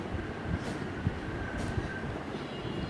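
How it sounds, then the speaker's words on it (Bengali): A children's ride train runs at a holiday park, giving a steady, moderately loud rolling rumble with soft rhythmic clatter and a faint thin tone drifting through. No one speaks. "সুন্দর একটি রাইডের ব্যবস্থা আছে দেখেন ট্রেনের ব্যবস্থা আছে"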